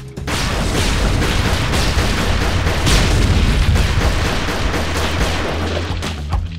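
Rapid, overlapping booms and blasts from the action game DeathSpank: Thongs of Virtue, a dense, loud barrage of explosive bursts that fills the whole stretch without letting up.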